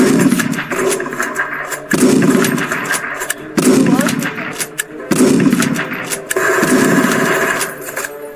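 Repeated loud bursts of automatic gunfire in the video game War Tycoon, with a steady mechanical engine-like drone underneath.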